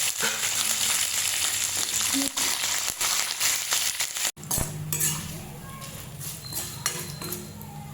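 A tempering sizzles in a pan for a chutney, a steady crackling fry with spoon clinks against the metal throughout and a brief pause midway before the frying carries on.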